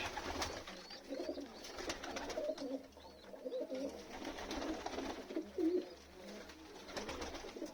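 Domestic pigeons coo steadily through a cold, windy winter evening feeding in a loft, soft repeated low coos layered over a constant rustle and breeze.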